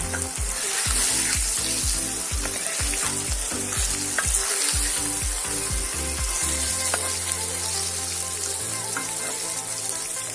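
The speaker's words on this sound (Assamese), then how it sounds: "এতিয়া আমি ফ্ৰাই কৰি থোৱা মাছখিনি দিছোঁ, দি অকণমান লৰাই দিম।" Pre-fried fish pieces are tipped into a hot pan for a mustard fish curry and stirred, giving a loud continuous sizzle broken by a run of quick rhythmic scrapes and clatters, then a steadier hiss.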